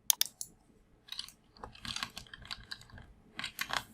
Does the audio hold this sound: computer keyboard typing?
yes